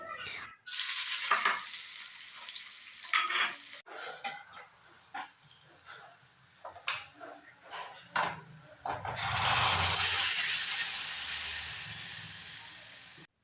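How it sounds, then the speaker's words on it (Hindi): Spices and onion sizzle in hot oil with a sharp hiss, a spoon stirring and scraping in between before a loud, sustained frying surge near the end. "मैंने सिर्फ ना जीरे का और प्याज का तड़का लगाया है"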